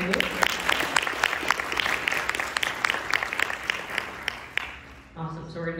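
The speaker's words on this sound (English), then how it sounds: "Can we get one more round of applause for our Vice President candidate?" A student election Q&A audience claps for a vice president candidate, crisp individual claps over a smaller crowd's applause that stops abruptly, followed by a voice speaking close to the microphone.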